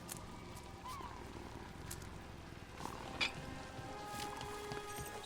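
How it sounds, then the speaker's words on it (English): Cat purring as it is petted in the video game Dragon Age The Veilguard, a soft low rumble running steadily under game music and ambient sound, faint and without voices. "Pet the cat."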